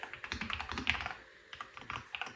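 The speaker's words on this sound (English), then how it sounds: "typing on this keyboard is very smooth and satisfying" Quick, steady keystrokes on a Nuphy Halo65 HE keyboard fitted with double-shot BBT keycaps, a close, crisp run of taps with a brief lull midway before the typing resumes.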